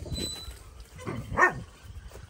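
A young working dog gives a few short yips and barks close by, brief bursts over a second or two amid outdoor background noise.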